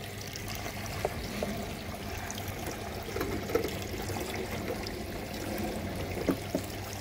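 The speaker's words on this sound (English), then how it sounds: "as we're using it to pump the water out of that." A pump draws water out of a round fish bowl, giving a steady low trickling and pouring wash with a constant hum beneath and a few faint clicks and splashes.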